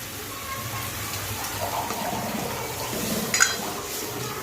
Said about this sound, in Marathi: आपण याच्यामध्ये आपल्याला हवे तेवढं पाणी टाकून घेणार आहे